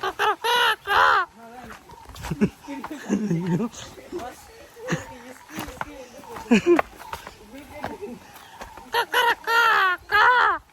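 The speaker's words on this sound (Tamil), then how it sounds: "இப்படிதான் கோழி கத்தும்." Short bursts of hen-like clucking at the start and end, with a person talking in between.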